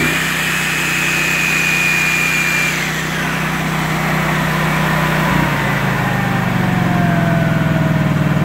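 A Honda EB10000 generator engine runs loud and close, holding a steady drone before its pitch shifts as it throttles up, settling into a busier, throbbing hum.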